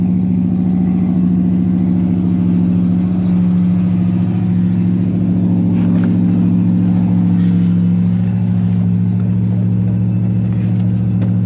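A 1979 hearse's steady, low rumbling engine runs continuously as it drives along, loud and close, with no talking.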